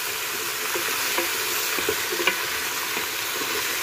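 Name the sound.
onion frying with kabocha squash in pan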